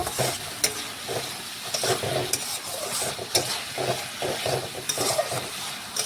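Fried potatoes stirred into sizzling spice masala in a pan for a fish and potato curry: steady close frying hiss broken by irregular spatula scrapes and clacks, with no talking.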